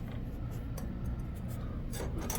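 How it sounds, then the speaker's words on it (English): Grinding a steel tube end up to a scribed line, a continuous gritty rasping scrape heard close and steady, with slight surges in intensity as the grinder works the metal. "now I just got to grind right up to the line"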